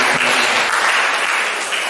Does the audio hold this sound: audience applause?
yes